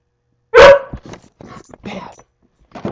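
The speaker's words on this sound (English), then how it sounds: "I'm sorry for my dog barking" A dog lets out one loud, sharp bark close by, followed by quieter yips and whines mixed with someone talking.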